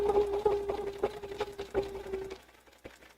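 Sewing machine stitching the last long half-inch seam of a vinyl tote bag, a close, rapid mechanical whirring hum that stops about two-thirds of the way through, followed by faint handling sounds.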